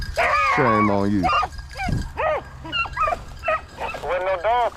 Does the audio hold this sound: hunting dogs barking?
yes